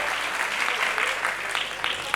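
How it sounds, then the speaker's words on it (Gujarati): Steady applause from an audience at an outdoor Gujarati folk dayro held at a Shiva temple, welcoming a female folk singer; dense continuous clapping at even loudness throughout. "એમને પણ એકવાર જોરદાર તાળીના ગગડાટ સાથે વધાવો."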